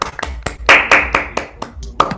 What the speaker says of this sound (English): Let's all give a round of applause to Jacob for an excellent lecture.